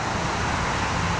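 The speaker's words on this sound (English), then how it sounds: "There's a highway behind me" Highway traffic behind the recordist produces a loud, continuous broadband roar of passing vehicles with no break, steady for just over a second.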